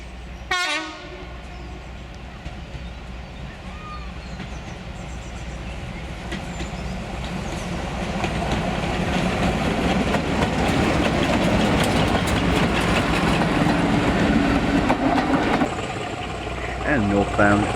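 A pair of Class 25 diesel locomotives double-heading a train pass close by, with a short horn blast near the start, then a swelling engine roar and rail clatter that peaks and holds before easing off.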